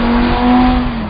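A 2010 Audi R8 5.2 V10 engine holds a loud, close, sustained high rev with a steady droning tone, briefly and without other sounds.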